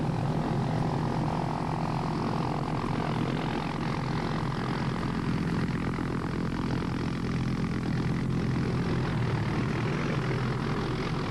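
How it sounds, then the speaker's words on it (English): A Hughes 500 medical evacuation helicopter approaches through early morning mist, its engine and rotor producing a continuous dense droning roar that stays loud and steady throughout, with no voices. "At last, the medical evacuation helicopter arrives through the early morning mist. A Hughes 500."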